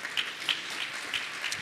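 A short burst of audience applause, steady dense clapping from a crowd at moderate volume.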